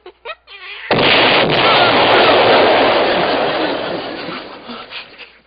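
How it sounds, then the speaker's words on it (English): Loud explosion sound effect for a comedy scene: a sudden massive blast swells into a long, rolling roar that slowly fades over several seconds, preceded by brief voices. "That was an explosion."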